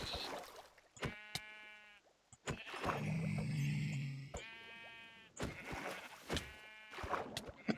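Sheep bleat repeatedly in Minecraft, several harmonic cries spaced across the stretch, fairly close, with a rumbling game noise and brief voice sounds in the middle.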